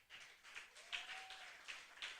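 Faint, sparse clapping from a church congregation, a thin patter of hands at a distance with a quiet tonal hum running through it.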